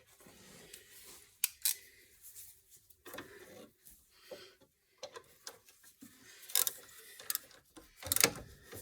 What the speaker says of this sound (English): So let's tighten the upper bolt.